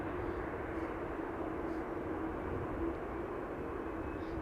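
A jet aircraft crossing the runway at Amsterdam Schiphol Airport, a steady broad engine roar held at an even level throughout, heard from a distance with no voices.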